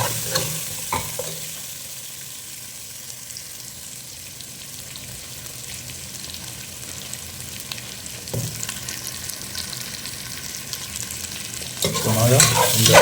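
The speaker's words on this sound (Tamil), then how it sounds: "ஸோ மாங்காய் கொஞ்சம் எண்ணெயில் கொஞ்சம் அப்படியே வதங்கட்டும்." Raw mango sautéing in oil in a pan for an ayila fish curry, a continuous close sizzle with occasional stirring scrapes, louder clattering at the end.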